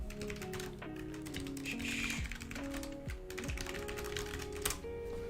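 Someone types a note on a computer keyboard, with a steady run of keystrokes over a continuous tonal background and no talking.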